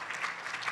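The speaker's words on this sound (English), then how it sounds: "she deserves a huge round of applause" An audience at a conference plenary session claps in a short, steady burst of applause, heard faintly and briefly.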